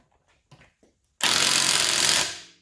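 Wheel lug nuts tightened with a 90 foot-pound torque stick on an impact gun, a few faint taps and clicks, then a single loud, close rattling impact burst of about a second that cuts off and rings down.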